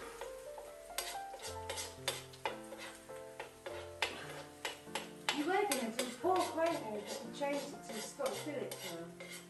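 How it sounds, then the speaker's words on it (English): Pork scotch fillet cubes and garlic frying in a pan, with a soft sizzle under frequent clattering and scraping of a utensil stirring against the metal pan, close by and fairly quiet. "So here we go, it's beginning to fry now"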